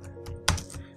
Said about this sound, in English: you start typing to your lecturer